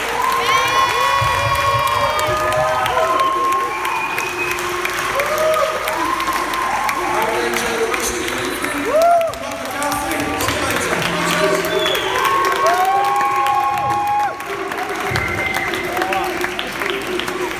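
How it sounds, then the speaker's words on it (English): A crowd at an evening charity event applauds and cheers continuously, clapping thick and loud while voices whoop and shout over it, some children among them. "I'd like to give a big round of applause for Lee, Susan and Pepper Hospice."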